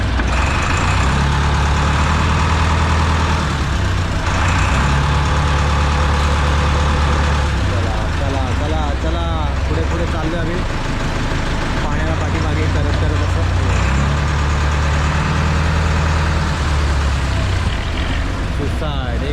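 Fishing boat engine running steadily as the boat heads out to deep sea, a loud continuous drone with a low rumbling hum and someone talking over it.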